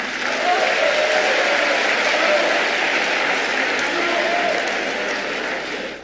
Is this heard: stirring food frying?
no